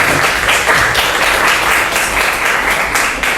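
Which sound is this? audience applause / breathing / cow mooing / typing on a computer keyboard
audience applause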